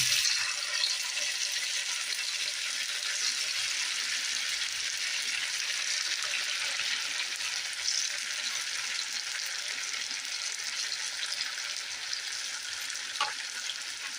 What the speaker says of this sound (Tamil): இப்போது நம்ம வந்து ஊற வச்ச மீனை எடுத்து அதில் போட்டுக்கலாம்.